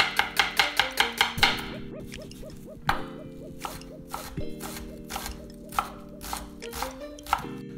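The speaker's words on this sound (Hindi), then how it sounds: "उसको मैं चॉप करने वाला हूँ फाइनली" A knife finely chops a whole red onion on a cutting board, a quick run of crisp, close, regular taps at first, then slower scattered chops over a steady background tone.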